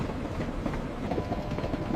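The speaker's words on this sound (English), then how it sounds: "The train gave a long whistle, steam poured from the engine, and the carriages shuddered." Steam train carriages rattle and clatter in a continuous, fairly loud rolling rush as the train gets under way.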